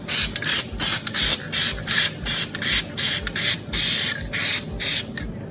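Spray adhesive applied in repeated coats during machine maintenance, a run of about a dozen short, loud hissing bursts in steady rhythm with brief pauses between them.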